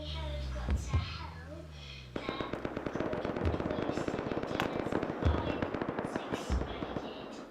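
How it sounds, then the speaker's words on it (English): Fireworks in the video game Rust crackle in a dense rapid string of pops and bangs, with a few deeper booms, while people talk over voice chat. "Rust has fireworks in it."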